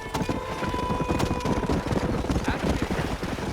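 Horse hooves clip-clop steadily in the Red Dead Redemption video game, a close, continuous trotting rhythm with a brief whinny-like tone early on, heard under a background bed of game sound.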